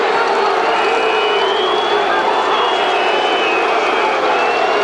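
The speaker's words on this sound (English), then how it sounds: "And Gerber didn't like that, nor did the crowd." Rugby stadium crowd in Cape Town during a South Africa versus Australia test, a loud, continuous roar of many voices rising in protest, distant and dense with no single voice standing out.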